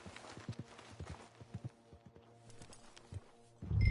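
Horse hooves clip-clopping in the Western video game Red Dead Redemption 2, a steady run of irregular, fairly close thuds that fades out before a louder low burst at the end.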